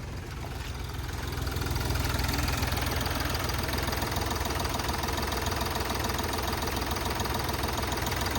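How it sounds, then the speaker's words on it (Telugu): A 2018 Hyundai Grand i10 Magna 1.2-litre diesel engine idles with a steady low rumble that swells over the first second, then holds an even, slightly knocking drone. "ఒక్కసారి ఇంజన్ పొజిషన్ చెక్ చేసుకోవచ్చు సార్"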